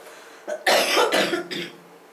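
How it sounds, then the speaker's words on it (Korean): A person coughs indoors, a short cluster of two or three harsh, close bursts that rise out of near silence and fade quickly. "기침을 참고 얘기하는데 너무 간지러웠어."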